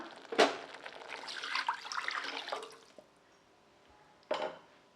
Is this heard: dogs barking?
no